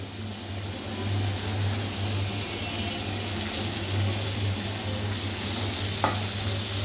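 Ridge gourd going into fried spices in a hot pan, giving a steady, loud sizzle over a low hum, with a single small clink near the end.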